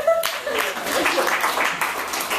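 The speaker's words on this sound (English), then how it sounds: "Let's give a round of applause for Holograms." Audience at a live reading breaks into clapping after a brief moment of talk, a dense burst of hand claps that carries on for a couple of seconds.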